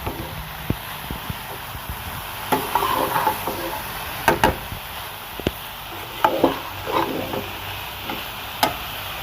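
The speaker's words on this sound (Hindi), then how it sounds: "तो इसको मिक्स करेंगे।" A spoon mixes red chili, salt and black pepper in a bowl, making irregular scraping and tapping strokes at close range with no voices.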